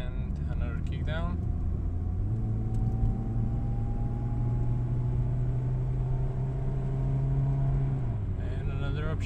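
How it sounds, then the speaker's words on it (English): A Volkswagen Jetta Mk2 with an automatic transmission accelerating on the road: a steady engine drone kicks down to a higher tone, holds, then drops as the gearbox upshifts, all under constant road rumble. "There's the kickdown, and now the down, the upshift, smooth, and another kickdown."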